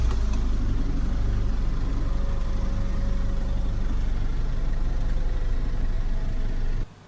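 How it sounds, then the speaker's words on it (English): A car at a Copart UK salvage yard in Newbury runs with a steady, loud low engine rumble, idling evenly throughout before cutting off abruptly near the end, with no talk. "so this is where we go and see if the car will start"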